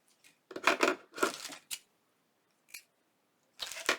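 Scissors snipping through material for a handmade flea-market journal cover, a few close, crisp cuts in short bursts with pauses between.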